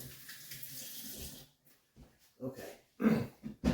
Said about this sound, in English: Wash my fingers real quick.